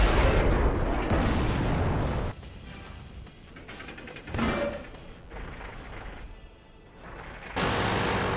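Tank cannon fire from a World of Tanks clan wars match booms in several heavy blasts, with a loud burst at the start and more shots and rumbling impacts later, under game ambience.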